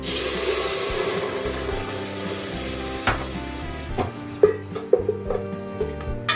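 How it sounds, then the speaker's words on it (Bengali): Boiled spice paste poured into hot Amway cookware, a loud hissing sizzle that fades and gives way to intermittent taps and scrapes of stirring. "এই পেস্টটা আমি এই কুকওয়্যারের মধ্যে ঢেলে দেব।"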